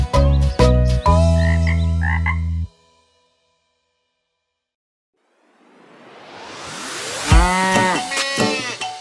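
A frog croaks in a cartoon nursery rhyme about a farm, giving a few loud, throaty croaks between a musical passage and a rising swell of sound, with no talk over it.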